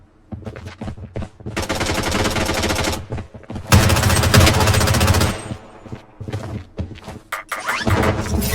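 Automatic gunfire from the online shooter Blood Strike: loud, rapid machine-gun bursts in long sustained volleys, broken by short pauses and scattered single shots.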